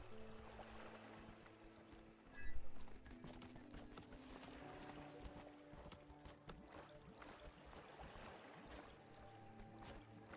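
In the Kubifaktorium video game, horse hooves clip-clop in a steady quick rhythm of soft knocks, quiet and continuous, with one brief louder burst early on and no talking.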